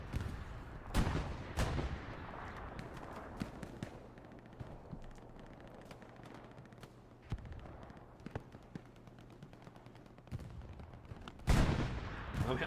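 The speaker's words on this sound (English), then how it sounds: "I'm hearing rockets." Scattered gunfire and sharp explosive bursts from rockets crack and thud across a battlefield in Hell Let Loose, mixed with distant rumbling blasts and occasional closer loud bangs.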